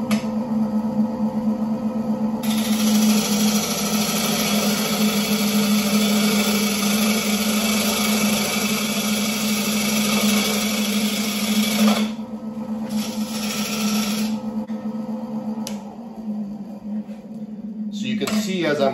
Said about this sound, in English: So now I'll do a little work in this manner so you can see how I'm holding my chisel while I'm trying to rough this out.